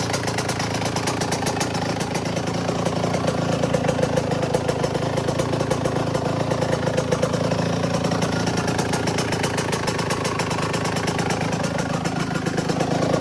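A Yamaha YZ125 two-stroke dirt bike with a freshly rebuilt top end idles steadily nearby, a fast even burble that stays level throughout with no voices.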